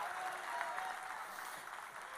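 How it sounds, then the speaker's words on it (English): A church congregation claps together in steady, dense applause that carries at an even level the whole time, somewhat distant and faint in a reverberant room. "Clap your hands, all ye people."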